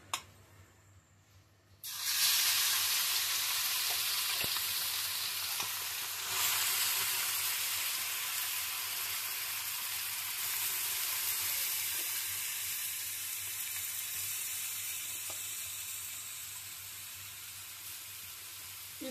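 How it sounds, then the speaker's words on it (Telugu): Grated raw mango hits hot oil in a kadai for mango rice, bursting into a loud, bright, hissing sizzle that holds steady and then slowly eases over many seconds, close up with no talking. "ఇప్పుడు మామిడి తురుము వేసుకుంటున్నాను."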